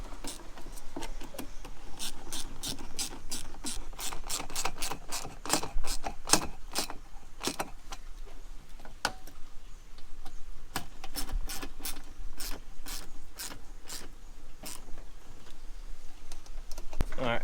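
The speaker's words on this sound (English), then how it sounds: "Now we're just going to tighten up every single clamp." Hose clamps on a 3.5L EcoBoost Ford F-150's aFe Magnum Force Stage 2 intake are tightened, giving a continuous run of sharp close ratcheting clicks and ticks.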